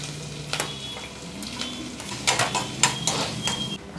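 Onion and green chillies hit hot oil in a pan and give a moderate sizzle. Clinks and scrapes of a utensil against the pan repeat over a few seconds, and the sizzle rises as the stirring picks up.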